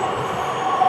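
Inside a metro train riding through Tabriz, Iran, a steady loud rumble of wheels and carriage noise with a faint high whine, continuous and without speech.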